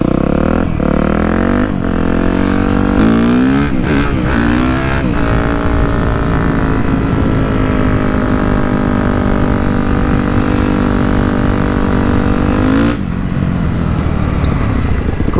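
A Yamaha YZF 250 motorcycle being ridden, its engine droning loud and steady up close, with brief revs and gear changes early on and again near the end.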